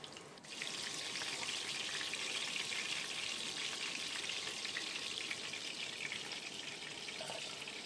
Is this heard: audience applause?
no